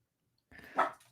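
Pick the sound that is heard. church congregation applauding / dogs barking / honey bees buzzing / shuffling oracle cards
dogs barking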